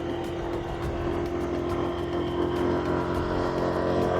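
A scooter engine hums steadily through a jungle road in Palawan, a continuous close drone with slight rises in revs and no talking.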